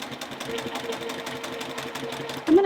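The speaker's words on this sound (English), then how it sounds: "I'm just going to start on that very edge again and sew along with a 1/4 inch seam allowance" A sewing machine runs steadily, stitching a quarter-inch seam along the edge of a quilt block, its fast mechanical hum and needle rhythm continuous at close range, with a brief louder burst near the end.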